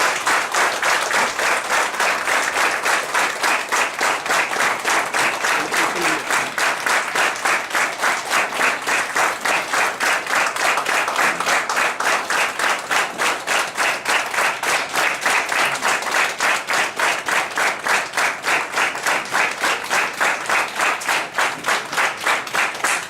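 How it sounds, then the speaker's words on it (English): A seated audience at a research academy talk applauds for a long stretch, dense, steady clapping that stays loud and even throughout, with no voices above it. "let's give a big clap"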